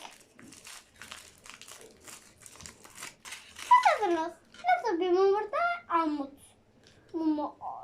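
A surprise egg's crinkly wrapper is torn open, giving several seconds of dry, rustling crinkles before a voice chatters and giggles over the rest.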